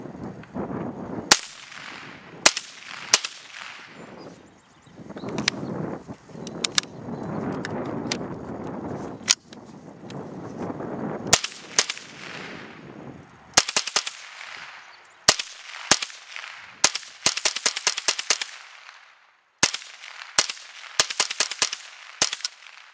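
A .22 rifle fed from an ArchAngel AA922 25-round Promag magazine firing Remington Golden Bullet ammunition outdoors: sharp cracks, first spaced single shots, then quicker strings of rapid shots with brief pauses, each trailing a short echo.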